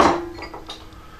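Carrots drop into a cocotte of water for a court-bouillon, giving a sharp clunk against the pot followed by a few lighter clinks and knocks, close and alone.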